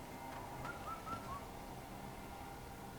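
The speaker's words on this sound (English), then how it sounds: "I hear a bird." A few short, faint whistled bird calls in the video game Wuchang: Fallen Feathers rise above a steady background hum, then fade into quiet ambience.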